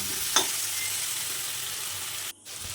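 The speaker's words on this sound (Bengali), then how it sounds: "তারপরে এটাকে ভালোভাবে মিশিয়ে নিলাম" Spices are stirred into a soybean and vegetable curry in a hot pan, giving a steady, close sizzle. A spatula scrapes once early on, and the sound briefly cuts out near the end.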